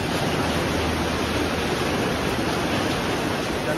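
Heavy rain pours during a solo motorbike tour from Pontianak to Central Kalimantan on slick roads, a loud, dense, unbroken rush of noise with no voices.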